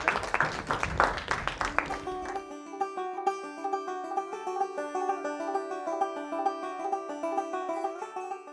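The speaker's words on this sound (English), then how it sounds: "A round of applause for Thomas, I think." Brief burst of applause from a classroom audience cheering Thomas at a biology dissection demonstration. The clapping fades out after about two seconds and gives way to steady, tonal music.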